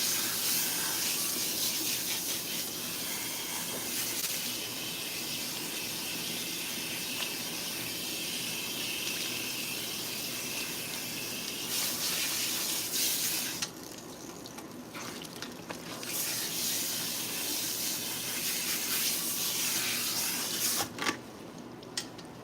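Tap water runs steadily into a salon sink while hair is rinsed, a constant close hiss with brief dips where the flow is interrupted.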